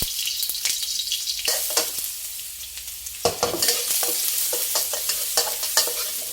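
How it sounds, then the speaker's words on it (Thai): Garlic frying in pork lard over medium-low heat sizzles steadily up close, broken by repeated spatula scrapes and taps against the pan as it is stirred. "ใส่กระเทียมลงไปเจียวให้หอมค่ะ"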